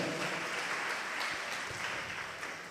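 A church congregation clapping loudly together, a dense, continuous wash of applause that holds steady throughout and tapers slightly at the end, with no voices standing out.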